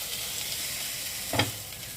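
Cooked tamarind-leaf curry is stirred and lifted out of a pan over a steady low sizzle, with one sharp spoon scrape standing out near the end.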